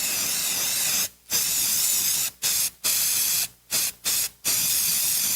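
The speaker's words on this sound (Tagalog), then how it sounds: "Humana ko i-spray direkta sa lamok, langaw ug ukok." Baygon Shield Defense insecticide sprayed from an aerosol can in six loud, close bursts of hiss, with a few short gaps of quiet between them, the later bursts quick and choppy.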